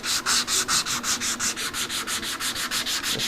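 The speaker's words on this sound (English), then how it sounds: "I'm just going to start sanding some of the really bad areas that the power sander couldn't get into." Hand sanding of a wooden table, working gouged spots a power sander couldn't reach: steady back-and-forth rasping strokes, about fifteen in quick even rhythm, close and alone with no talking.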